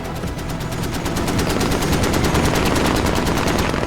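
Rapid automatic gunfire in the military shooter game Squad, a long unbroken burst of evenly spaced shots, loud and close, with no speech over it.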